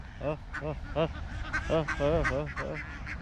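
Ducks calling at a pond, a run of loud, nasal quacks and honks in quick succession, close to the recorder with a faint background hum throughout.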